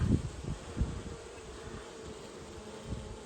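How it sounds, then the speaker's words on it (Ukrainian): Honeybees buzz and crawl around an open hive, a soft steady hum close by with faint rustling and a few low bumps near the start, no voices. "Бджілки ось біленькі ходять, тільки повилуплялися."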